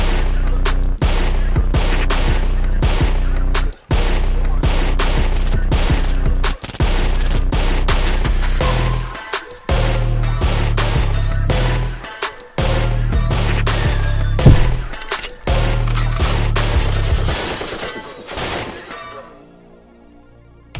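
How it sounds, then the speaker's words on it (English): Rapid machine-gun-style burst effects hammer through the breakdown of a song, loud and dense over heavy beats and bass, dropping out briefly several times before the track thins toward the end. "That sound of like machine gun fire and insanity."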